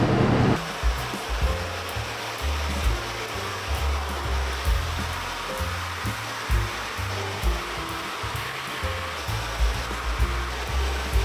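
A hair dryer with a diffuser blows a steady, loud roar of cool air while drying curly hair, its airflow rumbling and fluttering unevenly up close as the hair is moved around; no talking.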